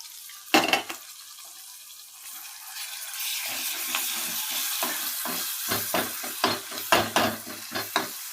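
A spice paste for egg curry fries in a pan, giving a steady broad sizzle with intermittent scraping and stirring clatters, close and moderately loud, no voices.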